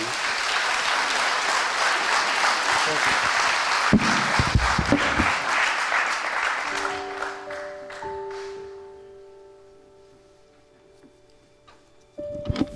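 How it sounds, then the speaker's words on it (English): Loud, sustained audience applause at a motivational speaking event fills a large room for several seconds, then fades away, leaving a near-quiet tail with a few faint tones and a last soft thump. "Give her a round of applause."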